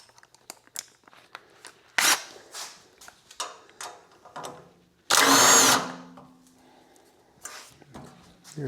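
A power drill removes 13 mm bolts from an H15R mini excavator's floor pan, with short bursts of whirring and rattling, one longer loud spin near the middle, and clanks from tools and parts between them.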